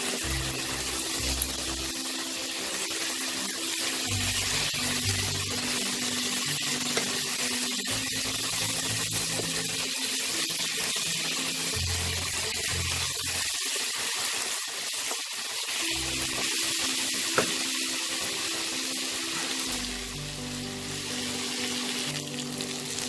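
Ginger sizzles in hot oil in a pan while Bengali bhuna khichuri is being cooked, a steady, fairly loud frying hiss that runs unbroken with no talking.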